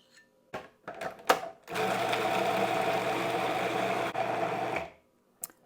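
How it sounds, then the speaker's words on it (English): A food processor blends cottage cheese until smooth, its motor running as a steady, loud whir for about three seconds, with a few clicks and handling knocks just before it starts. "Now I'm going to add the cottage cheese to a food processor just to make it"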